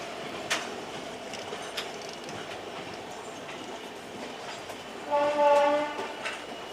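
Visakhapatnam LTT Express on the Wadi–Pune route rumbling past with a steady rush of wheels, then a loud sustained horn blast near the end, heard from close by.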